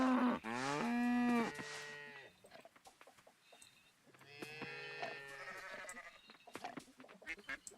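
Cows on a Coral Island farm being milked, giving long drawn-out moos, one loud low call followed by a second after a short pause, with a few soft clicks in between.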